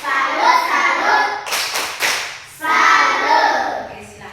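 A classroom of children doing the 'tepuk salut' clap chant, rhythmic group clapping with chanting voices, broken by a few sharp loud claps in the middle before the chant resumes.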